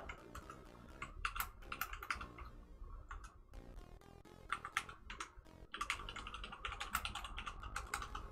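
Typing on a computer keyboard, bursts of quick close key clicks separated by short pauses, fairly quiet and without speech.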